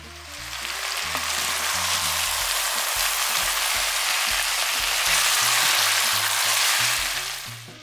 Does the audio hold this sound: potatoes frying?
yes